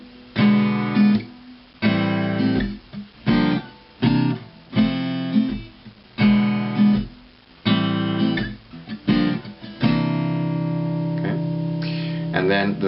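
An electric guitar strums a jazz chord progression including a C ninth, each chord struck and left to ring in a steady rhythm, about nine sustained chords played alone without talk.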